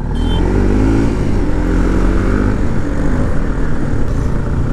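A modified Bajaj NS200 motorcycle rides through traffic, its engine holding a loud, close, continuous drone with a steady throb and no pauses.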